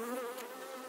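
Honey bees buzz at an open hive, a steady close droning hum with no voices.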